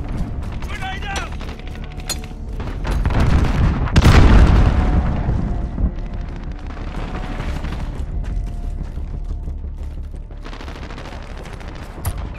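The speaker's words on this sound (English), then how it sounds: "Grenade out." A grenade goes off in Call of Duty: Modern Warfare multiplayer on PS4 Pro, one loud, deep blast near the middle that swells and rolls away, set among scattered gunfire and game battle noise.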